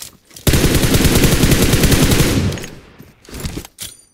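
Rapid automatic gunfire in a first-person shooter video game, a loud sustained burst of about two seconds followed by a few shorter, quieter bursts.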